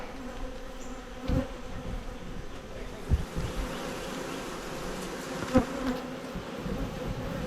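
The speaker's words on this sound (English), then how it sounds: "when you got this many bees in the top box" Dense, steady buzzing of many honeybees close by in a hive's top box, continuous throughout with a few brief louder bumps and knocks.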